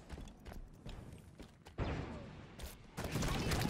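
Video-game gunfire in bursts of sharp, rapid shots, sparse and quieter at first, then denser and louder toward the end, with a sudden jump in volume partway through.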